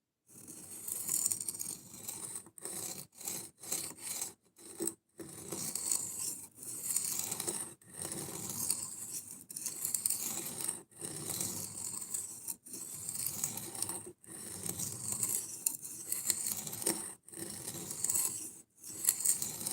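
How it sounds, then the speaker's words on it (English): Knife blade being sharpened on a coarse 120 grit abrasive: harsh, raspy grinding strokes, close and loud, repeated in uneven bursts with brief pauses between passes. "I'm sure it doesn't sound great. It's because we just hopped down from a 400 grit to a 120 grit."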